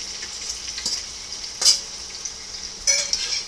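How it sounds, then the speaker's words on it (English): Steady hissing sizzle of pre-cut beef liver frying in a pan for Hungarian stew, with occasional louder pops and spatters, no voices. "So I'm going to add that to the frying pan right now."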